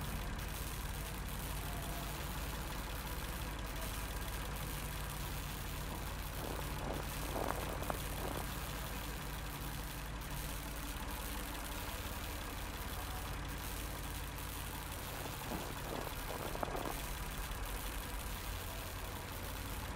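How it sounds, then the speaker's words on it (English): Diesel generators run inside a shed in a video game, a constant low mechanical hum and rumble that stays steady throughout, with a few faint clanks midway. "Judging by the engine noise and the smell, there are diesel generators in this shed."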